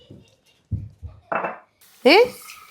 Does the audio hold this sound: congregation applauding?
no